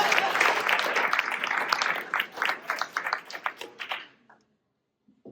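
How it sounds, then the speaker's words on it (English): An audience at a clean energy event in Oak Park, Illinois, gives a dense round of applause that thins into scattered claps and stops, leaving near silence. "go give a round of applause for that"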